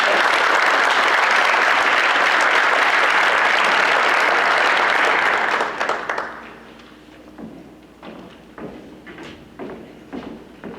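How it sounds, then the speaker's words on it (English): An audience at a school awards ceremony applauds steadily and loudly for about six seconds, then the clapping fades into scattered claps and room noise. "Let's just give one more round of applause to all of our outstanding art students"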